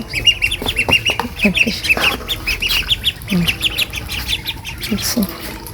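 Several ducks squawk and quack close by in a rural yard, a busy cluster of overlapping calls with a voice talking now and then underneath.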